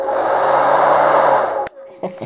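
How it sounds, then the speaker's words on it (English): A hair dryer used for drying miniatures blows with a loud, steady whirring roar for about a second and a half, then cuts off abruptly, leaving a few faint clicks and a brief tone. "My good old hairdryer."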